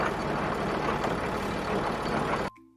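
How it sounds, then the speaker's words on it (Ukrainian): A loud, steady tractor engine roar with heavy low rumble drones continuously while working in a field, then cuts off abruptly near the end. "Це трактор працює у полі"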